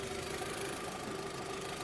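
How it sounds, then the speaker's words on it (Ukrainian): A 2023 Skoda Scala 1.6 MPI petrol engine idles with a steady, low, even drone and a faint tonal hum, continuous and unbroken, heard close with no talking. "звичайний MPI двигун"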